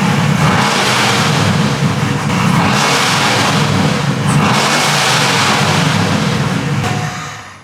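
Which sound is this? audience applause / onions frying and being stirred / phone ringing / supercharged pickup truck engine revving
supercharged pickup truck engine revving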